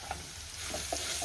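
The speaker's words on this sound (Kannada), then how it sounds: "ಲೋ ಫ್ಲೇಮಲ್ಲೇ ಫ್ರೈ ಮಾಡ್ಕೊತಾ ಇದ್ದೀನಿ." Ground green chilli paste frying on a low flame for lemon rice, a soft continuous sizzle with a few small spoon taps and stirs, close and quiet.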